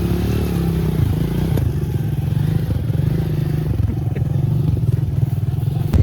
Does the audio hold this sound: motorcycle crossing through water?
yes